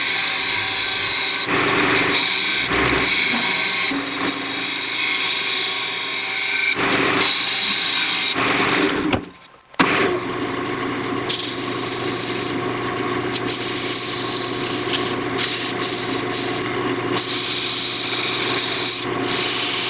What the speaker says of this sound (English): I'm going to sand the outside.